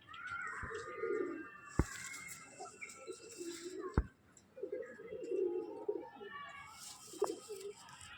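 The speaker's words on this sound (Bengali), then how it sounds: "এটা কালশিরা পায়রা দেখুন বন্ধুরা" A Kalshira pigeon in a loft gives several soft, throaty coos in separate bursts, with sharp clicks and taps in between, all fairly quiet and close by.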